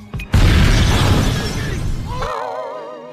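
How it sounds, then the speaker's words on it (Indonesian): A car explosion bursts out loudly after a brief click, roaring and crackling with debris before fading into a wavering, warbling tone. "terjadilah ledakan."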